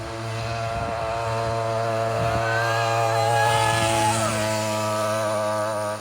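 A go-kart's small engine screams at full speed, a steady buzzing drone that rises slightly in pitch as it passes close by, loud and continuous.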